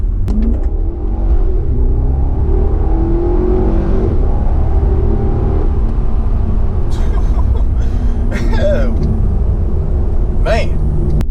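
The engine of a 2014 Chevy SS drones as a loud, continuous rumble from inside the car while it is driven, with someone talking over it.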